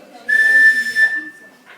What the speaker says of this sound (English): that's my 3D printed whistle